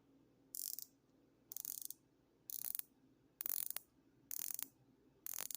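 A Ginault Ocean Rover dive watch bezel is turned in six short bursts of fine ratcheting clicks, each about half a second long, separated by brief pauses, close and crisp with no talking.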